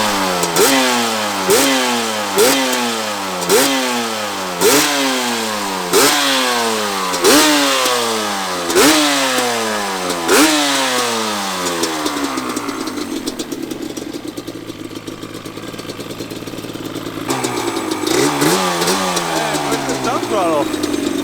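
A 1997 Yamaha Banshee ATV two-stroke engine fitted with Lectron carburetors, running with repeated revving bursts that rise and fall in pitch, then settling to a rough idle before another blip, with voices talking over it.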